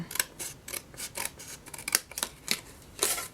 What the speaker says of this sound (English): Fold down one flap and trim it up.